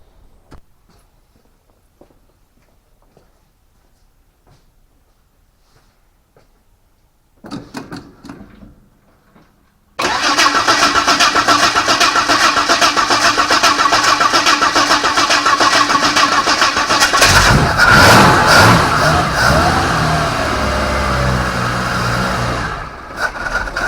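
A Holden HR ute engine starts after carburettor work: near silence, then a brief crank, followed by the engine catching and running loudly and steadily, close by, before cutting off near the end.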